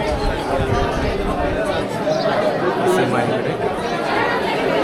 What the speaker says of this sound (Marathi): तर बघू शकता माझ्या मागे किती गर्दी आहे